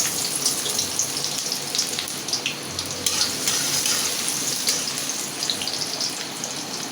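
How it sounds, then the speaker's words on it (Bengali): Onion dropped into hot oil for a bottle gourd and prawn dish, a dense, steady hiss and crackle like pouring rain that holds for several seconds at close range, no voices. "তো আমার তেলটা গরম হয়ে গেছে আমি এখন পেঁয়াজটা দিয়ে দেবো"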